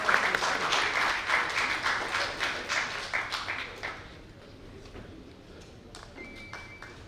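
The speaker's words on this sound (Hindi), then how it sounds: "बहुत जोरदार तालियों के साथ स्वागत, अभिनंदन" An audience applauds to welcome a guest at a ceremony in New Delhi, a burst of loud clapping that fades to a few scattered claps, with a short tone at the end.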